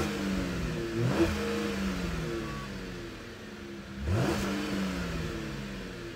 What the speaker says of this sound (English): I'm going to start up the car and let you guys listen to the exhaust and the beautiful note that it makes.